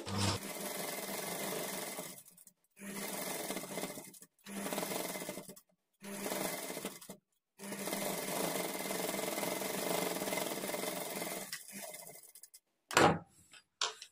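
A sewing machine stitches the border of a puff sleeve in repeated bursts separated by short pauses, with one long stretch of steady whirring before a final clatter.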